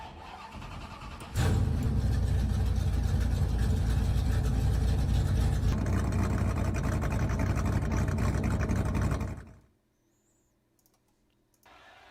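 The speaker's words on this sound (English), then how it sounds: "Drivers, start your engines." Race car engines fire up together at a motorsport event, a loud sustained roar that holds steady for several seconds before cutting off abruptly, leaving near silence.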